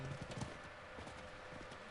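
Horse hooves in the video game Diablo 4, a soft, quick clip-clop of a ridden horse trotting along, faint and steady with low background ambience.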